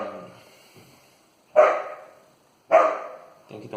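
A dog barks twice, loud and close, the sharp barks spaced about a second apart over a quiet background.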